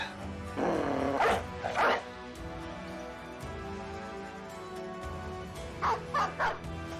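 A war dog in the Battle Brothers video game barks in two short bursts near the start, then falls quiet over a low game ambience before three quick yips close out the scene.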